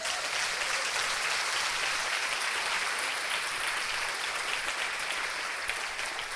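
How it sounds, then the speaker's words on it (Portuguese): Sustained loud applause from a church congregation during a sermon, steady dense clapping with no talk over it. "Um forte aplauso a Jesus."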